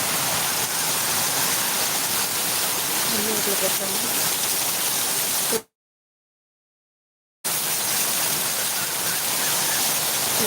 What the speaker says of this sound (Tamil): அதில் சுற்றி இருக்கக்கூடிய வாட்டர் ஃபால்ஸையும் காட்டுறேன் பாருங்கள் இவ்வளோ வாட்டர் ஃபால்ஸ் அழகாக இருக்குது